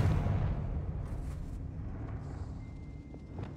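Booming spell blasts from the Hogwarts Legacy video game, fired in an old mine shaft, as a dense, continuous low rumble of overlapping explosions with scattered crackling bursts through the whole stretch.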